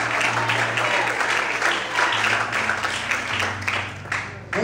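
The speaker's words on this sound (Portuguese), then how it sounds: "Quantos podem aplaudir?" Church congregation applause fills the room as a continuous wash of many hands clapping, with a low hum and some voices mixed underneath.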